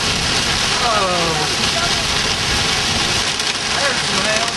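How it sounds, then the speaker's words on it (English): Hail striking a car during a storm chase near the New Mexico–Texas border: a loud, continuous rattling patter on the vehicle, with faint tonal whines drifting in and out underneath. "There's some hail."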